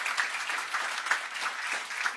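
Audience applause at a Norwegian climate breakfast talk, a dense, even patter of many hands clapping that holds at a steady level for a couple of seconds.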